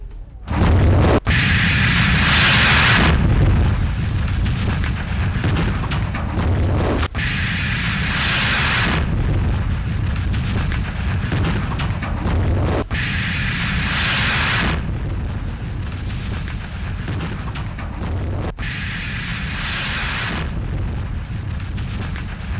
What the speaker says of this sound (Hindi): चेचन्य की राजधानी ग्रोजनी के गैस स्टेशन में विस्फोट हुआ है